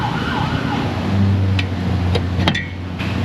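Fire truck siren fading as it passes, its wail low under a rumbling engine drone, with a few sharp metallic clicks near the end.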